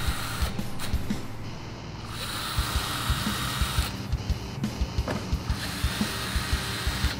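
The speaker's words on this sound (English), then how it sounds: "Choose a screw gun and go ahead and grab them out" A screw gun pulling 7mm screws during a Ford Mustang GT350 X-pipe install, short buzzing bursts and sharp clicks repeating in an uneven rhythm over a steady background hum, close by and without speech.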